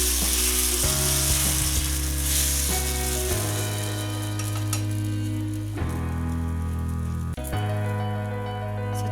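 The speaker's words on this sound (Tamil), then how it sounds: "இப்போ கல் காஞ்சிடுச்சு. நம்ம இந்த தோசையை விடலாம்." Wheat dosa batter sizzles on a hot griddle with a steady, close frying hiss, partly masked by loud sustained tonal music that shifts pitch in steps.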